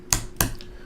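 Two crisp key presses sound on a computer keyboard as numbers are entered, close and quiet, followed by a fainter third click.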